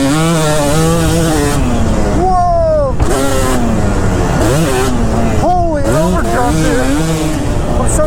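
A two-stroke Kawasaki KX250 dirt bike on sandy terrain revs loudly and continuously, its pitch repeatedly climbing and dropping as the throttle opens and closes, with riders' voices audible over the engine.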